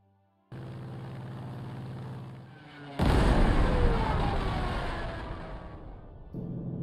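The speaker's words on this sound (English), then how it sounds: "There's one artillery firing from here." Artillery fire in the war game Panzer Corps 2 near Sicily, with a humming engine tone cut by one heavy blast that rolls off into a long rumbling decay, loud and close, with a second engine drone after it.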